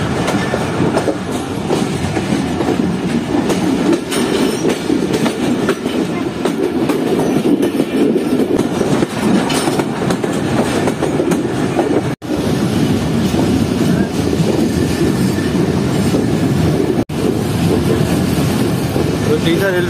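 The Tezgam passenger train of Pakistan rolls slowly at about thirty km/h over a small bridge, with a steady loud rumble and rhythmic clatter of the wheels heard from on board throughout.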